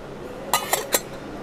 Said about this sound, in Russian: игрушечная посуда, 5 предметов, 800 рублей полностью, из нержавеющей стали